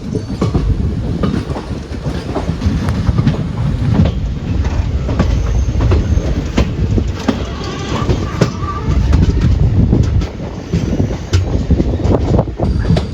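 The Chemmozhi Express rumbling steadily close by at a railway station, with wheels clattering over the rails and brief metallic squeals throughout.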